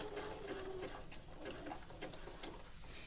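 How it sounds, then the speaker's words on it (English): A sewing machine runs a zigzag topstitch at stitch length 4 and width 2.5 on a tankini top, a quiet, steady mechanical whirring hum with soft rapid ticking. "I'm using my zigzag stitch to top stitch"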